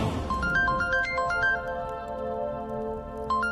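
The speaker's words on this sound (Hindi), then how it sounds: "अभी मन्नू का फोन" A phone ringing in a Hindi TV serial scene, a bright electronic ringtone melody of quick repeated beeping notes over a sustained chime, playing alone and fairly close.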